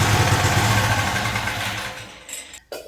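A weird mini bike's small engine idles nearby, a steady rough drone with low thumping that fades toward the end before a brief clunk.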